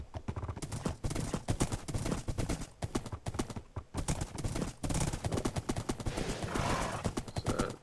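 Rapid Minecraft horse hoofbeats pound in a fast galloping rhythm, fairly loud, with bursts of busy background noise and a brief whinny.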